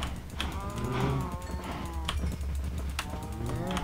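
Cows moo in a farming survival video game, a few drawn-out calls rising over a steady low background hum with no talk.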